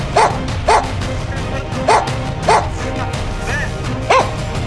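A rescue dog, harnessed for search work in winter snow, barks five or six times in short, evenly spaced bursts, close and clear over a steady background hiss.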